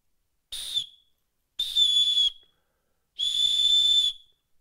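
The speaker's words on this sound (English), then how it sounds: "comes with this little keychain type whistle." A small keychain emergency whistle gives three shrill, piercing blasts, the first short and the next two progressively longer, with quiet gaps between them.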